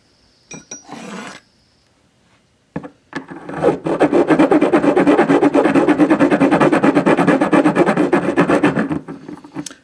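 A round file rasps back and forth on a metal shock support bracket for a BMW F800GS motorcycle, giving a loud, rhythmic scraping stroke after stroke up close after a few brief handling knocks.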